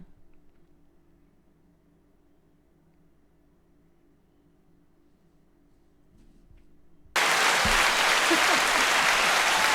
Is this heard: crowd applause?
yes